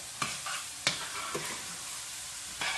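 A spoon scrapes and stirs through Conecuh original sausage sizzling with seasoning in a pan, with four sharp utensil knocks spaced over a soft, continuous frying hiss.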